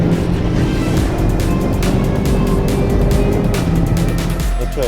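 Race cars lapping a drying track in a scrapped-car racing series, a steady loud engine roar with passing cars blending into continuous dense noise, no talk.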